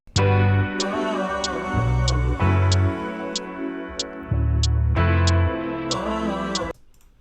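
A hi-hat ticks steadily on every downbeat, counting 1 through 4, over a looped sampled music track in a beat-making demonstration, with crisp regular hits through the whole phrase before it stops abruptly.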